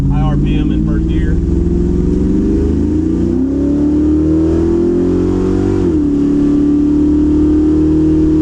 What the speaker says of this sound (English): We just want to make a high RPM in first gear.